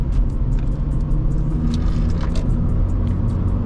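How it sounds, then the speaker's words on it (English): A Honda Civic driving at night, heard from inside the car as a steady, loud rumble of engine and road noise that carries on without a break and with no talking. "So I thought I'd do a little POV drive."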